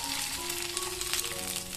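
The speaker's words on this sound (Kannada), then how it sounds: "ಬೆಂಡೆಕಾಯಿಯನ್ನ ಇದರಲ್ಲಿ ಹಾಕಿ ಇದನ್ನ ಚೆನ್ನಾಗಿ ಒಂದ್ಸಲ ಫ್ರೈ ಮಾಡ್ಕೊಂತ" Okra frying in coconut oil, a continuous close sizzle with light bubbling crackle throughout.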